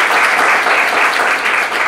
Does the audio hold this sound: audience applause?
yes